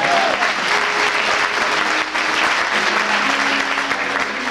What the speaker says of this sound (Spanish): Aplaudan fuertemente al Señor.